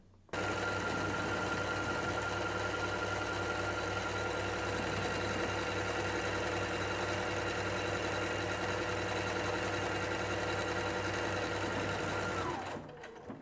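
A Singer SE 9185 sewing and embroidery machine stitches buttonholes, a steady close mechanical whir running for about twelve seconds before winding down and stopping, with no talking.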